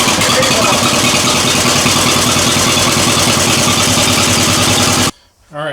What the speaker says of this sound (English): Cold start on the John Deere.